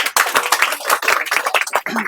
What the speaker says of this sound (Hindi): एक बार ताली बजाइए तो।